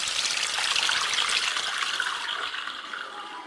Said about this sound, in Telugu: ఇప్పుడు చింతపండు రసం వేసుకుందాం